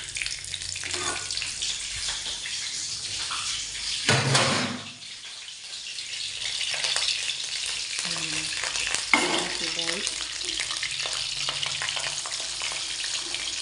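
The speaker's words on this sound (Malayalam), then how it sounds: "മീൻ വറുക്കാൻ വെളിച്ചെണ്ണ ഒഴിച്ച്" Curry leaves fry in hot coconut oil before fish goes in, giving a steady close sizzle and crackle with occasional stirring and scraping in the pan throughout.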